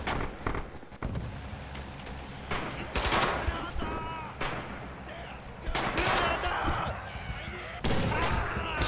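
A World War II battle in Red Orchestra 2 multiplayer: sharp rifle and machine gun shots crack repeatedly amid heavy blasts, including a grenade explosion, with a voice speaking intermittently beneath the loud gunfire.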